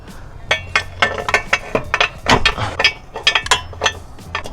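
A ratchet on a wobble extension works a transmission mount bolt on an Audi B9 SQ5, giving irregular metallic clicks, clanks and short ratcheting bursts, loud and close.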